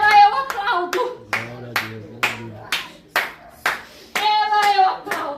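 Irregular hand claps, about a dozen separate sharp slaps in a loose rhythm, close and fairly loud, mixed with bursts of excited voices during a church sermon.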